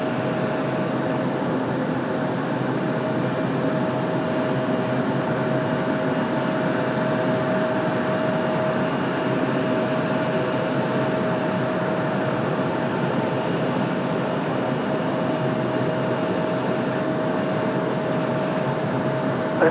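A fixed-wing aircraft takes off from runway 32 at Raleigh-Durham International Airport, its engine roar a steady, broad rumble holding level throughout with a faint tonal whine riding on top.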